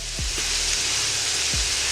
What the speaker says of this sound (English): Let that cook before I start chopping it up a little bit more.